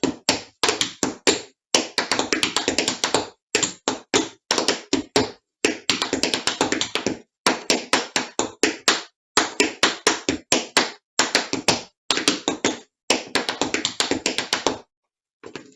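Intermediate tap dance steps, with brushes, heel drops, spanks and steps, rattle out as sharp, rapid metallic taps on a hard floor in quick bursts separated by brief pauses, close and loud.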